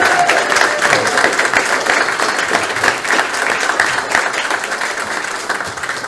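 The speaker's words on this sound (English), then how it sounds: "I call for a round of applause for Bridge, particularly" An audience at a 40th anniversary tribute show for a street festival applauds, a dense, steady wash of many hands clapping that carries at a fairly loud level throughout, with no voices rising above it.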